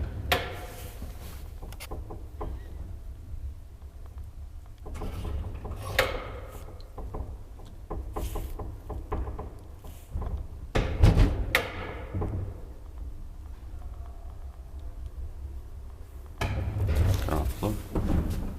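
A 1936 Graham Brothers traction elevator runs with a steady low mechanical hum, broken by clunks and rattles of doors and gear, and a sharp loud knock near the middle.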